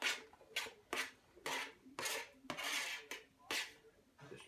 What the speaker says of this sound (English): Just chop them all up by hand.